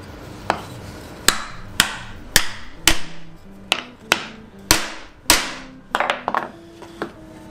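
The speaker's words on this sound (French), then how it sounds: "Pour ce faire, on va utiliser une cale de bois et un marteau." A hammer striking a wooden block to drive a metal piece into a central hole while building an adjustable dowel jig: about a dozen sharp, loud knocks at uneven intervals, some in quick doubles near the end.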